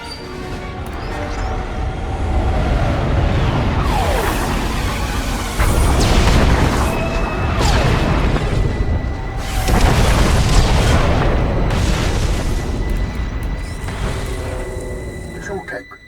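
A bombardment in a Star Wars: The Old Republic cutscene, with heavy booming explosions rolling one after another, loud and close, and rumbling bursts layered over a continuous roar. A voice speaks partway through.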